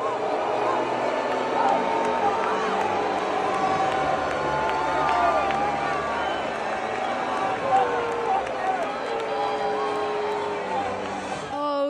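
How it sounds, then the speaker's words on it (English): A large stadium crowd at a sports match cheers and boos Donald Trump, a dense continuous roar of many voices that holds steady and loud throughout. "some people were cheering, but some of them are booing Donald Trump"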